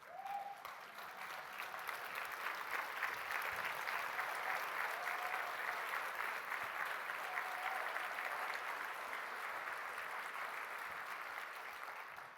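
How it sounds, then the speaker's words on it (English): A conference audience at the Pioneer Network Conference 2022 rises and applauds, with steady, dense clapping that stays loud and even for about twelve seconds. "I would love us to stand and give Penny a round of applause for what she does."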